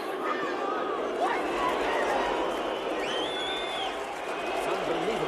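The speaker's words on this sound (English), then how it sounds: "Listen to this crowd. It sounds insane." A roaring, hostile arena crowd at a boxing match in a Rocky film, a dense wall of shouting and jeering voices with rising whoops and yells, loud and continuous throughout.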